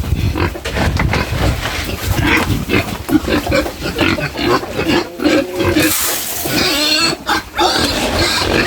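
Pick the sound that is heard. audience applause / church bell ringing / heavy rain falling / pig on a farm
pig on a farm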